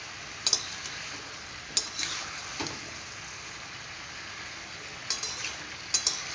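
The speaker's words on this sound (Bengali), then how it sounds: "এই দেখো, আমি এখন খুব ভালো করে নাড়াচ্ছি" Papaya curry is stirred in a pan, with a quiet bubbling bed under a few sharp spoon clinks and scrapes spaced apart. The clinks come in pairs near the start and end.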